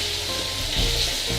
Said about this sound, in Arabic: هون بدنا الدجاج نحن لمدة 3 دقائق أو 4 دقائق يتقلى مع هي المكونات